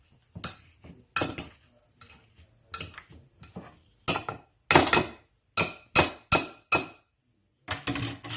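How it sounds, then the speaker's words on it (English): Cooked, softened potatoes are mashed smooth in a pot, making a series of sharp, close knocks and clinks that come in irregular bursts with short pauses between, and no voices. "we're going to mash them up till they're nice and smooth"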